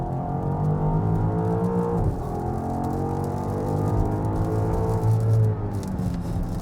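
A BMW XM SUV is driven hard, its engine note a loud, steady drone heard from inside that dips briefly as the revs drop, then climbs again under a continuous road rumble.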